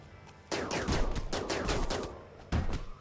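Turret gunfire in Rimworld, a rapid burst of repeated sharp shots lasting about two seconds, then a short gap and a second brief burst, loud and close with no voices.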